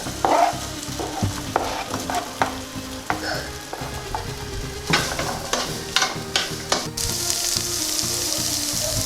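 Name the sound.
potatoes frying in butter in a pan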